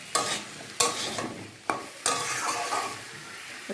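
Eggplant and spices stir-fried in a pan, a spatula scraping and clattering in several sharp strokes over a steady close sizzle.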